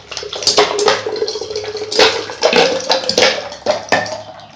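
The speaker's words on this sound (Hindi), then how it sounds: "अब इसको हम थोड़ा सा घोल ले रहे हैं।" Sugar is stirred into a liquid for Banarasi magdal, with irregular clinks and swishes of a utensil against a vessel, sloshing liquid and a few louder knocks close by.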